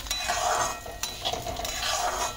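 Fenugreek and coriander seeds roasting and being stirred in a pan, a steady dry rustling and scraping with a few clinks of the spoon against the metal, close and continuous.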